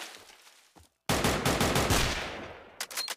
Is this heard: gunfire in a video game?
yes